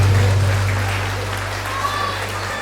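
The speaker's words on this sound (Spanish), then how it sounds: "Fuertes los aplausos para este bonito momento." Guests at a quinceañera party applaud in a steady, dense wash of clapping over a low hum from the sound system, with no voices rising above it.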